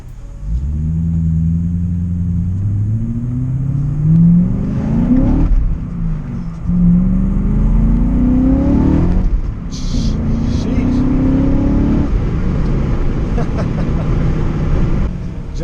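A BMW M5 E39 V8 with newly repaired timing chain guides revs under partial throttle, rising and falling in several repeated pulls with a deep rumble and climbing engine note.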